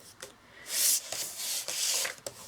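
Paper for a mini album is scored with a tool, making a few short, close scraping strokes with brief rubbing hisses and pauses between them.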